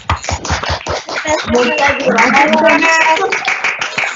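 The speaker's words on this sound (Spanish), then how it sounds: "Si todos pudiéramos activar un momentito el micrófono para dar un aplauso" Applause from online meeting participants with unmuted microphones, a scattered burst of clapping through small mics that swells and then thickens under a voice speaking over it.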